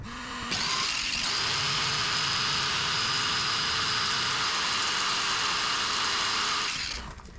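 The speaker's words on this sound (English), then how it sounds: "so I've added a small grinder." Small angle grinder running steadily on an AFERIY P210 portable power station under heavy load: a loud, continuous high-pitched whine that spins up, holds for several seconds and winds down, close and alone.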